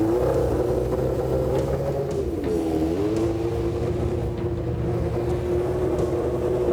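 Formula One race car engine idling loud and close at Shannonville Raceway, a steady low drone with a brief pitch dip and rise midway, holding constant throughout.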